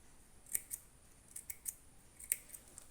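Sharp scissors snip small notches into fabric around a round neckline, a handful of quick, close, crisp clicks spaced irregularly against quiet.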